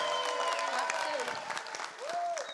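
Conference audience bursts into applause for Adil Tanjawi, a dense burst of clapping that fades toward the end, with voices and tones sounding over it.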